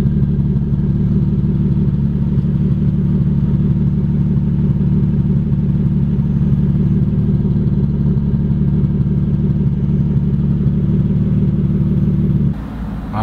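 A Nissan 350Z fitted with a Tomei Y-pipe exhaust idles steadily, a loud, deep, even rumble with a fine rhythmic pulse that holds unchanged for over twelve seconds before dropping away abruptly at the end.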